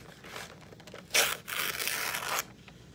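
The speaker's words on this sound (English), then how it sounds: "Sounds like I'm ripping just regular drawing paper or writing paper." Paper towels being ripped from a roll: a quiet rasp, then a sharp tearing burst and a longer continuous rip lasting over a second, close and alone without talk.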